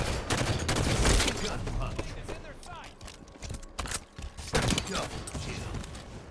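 Rapid bursts of gunfire in a shooter video game, dense volleys of shots rattling loudly at first, then thinning to scattered pops, with talking heard among them.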